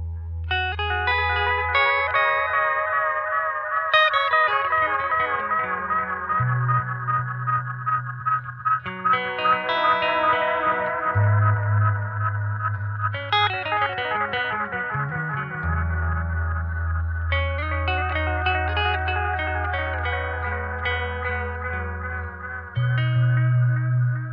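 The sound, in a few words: Jam Pedals DelayLama Xtreme analog delay pedal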